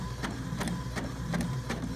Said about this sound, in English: this printer takes about a minute for it to print